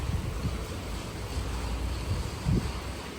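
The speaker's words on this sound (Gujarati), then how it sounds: "મેં જોયું તો વરસાદ આવે છે" Rain falls steadily in a continuous soft wash of noise, with a few faint low thumps and no speech.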